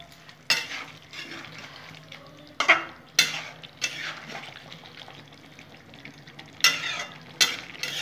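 Egg do pyaza curry stirred in a pan, a spoon scraping and clinking in several separate bursts over a soft sizzle, close and moderately loud, with no talking.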